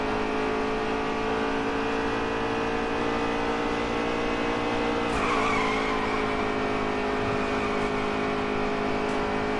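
A stock car wreck in the NASCAR Heat 3 racing game: a loud, constant engine drone with a sudden scraping, skidding burst partway through, then the engines roar on.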